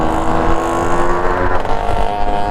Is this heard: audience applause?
no